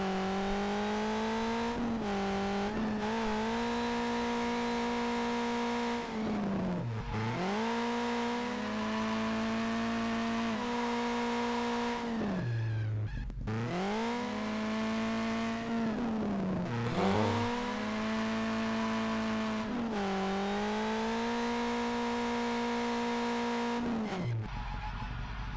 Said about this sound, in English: Why not rip off some decent engine sounds?